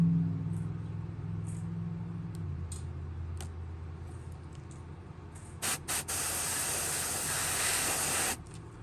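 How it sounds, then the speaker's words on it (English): An aerosol can hisses in a few short test bursts, then one long steady spray onto a fishing lure, close by, over a low background hum. "I'm just gonna lightly spray the front of this."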